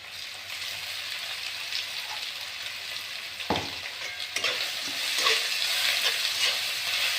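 Onion fries in a pan as ginger-garlic paste goes in, a steady hiss of sizzling oil that swells into louder crackling after the paste is added, with a scrape of stirring midway.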